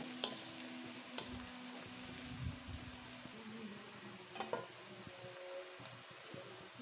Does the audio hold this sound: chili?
yes